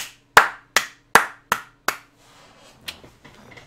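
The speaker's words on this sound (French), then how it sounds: "On applaudit QB, s'il vous plaît!" Five sharp, evenly spaced hand claps ring out close by, then stop, leaving faint scattered noise; a lone person clapping rather than a crowd.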